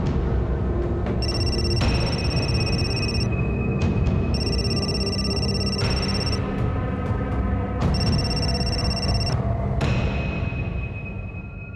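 A telephone rings in repeated bursts, a bright electronic trill sounding three times with pauses, over a steady background hum.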